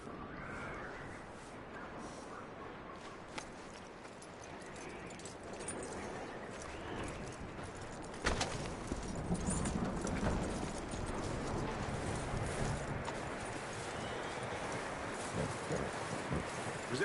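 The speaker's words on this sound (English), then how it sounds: "That looks like a decent horse." Horse hooves clip-clopping steadily in a video game, a rhythmic run of hoofbeats that grows louder partway through, mixed with rustling ambience and no speech.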